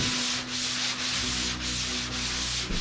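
Continuous sandpaper rubbing on a board while prepping a 1969 Chevelle, steady scratchy strokes with brief dips roughly every half second, close and loud, no voices.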